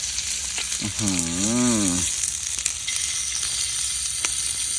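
Pork sizzles and crackles steadily on a hot Thai mookata tabletop grill, close by, while a short warbling tone rises and falls partway through.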